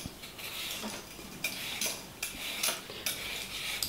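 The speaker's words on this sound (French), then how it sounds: "Une fois que tu as épluché tes carottes" Repeated quick scraping strokes of a peeler on a carrot, close up and fairly regular, with no voices.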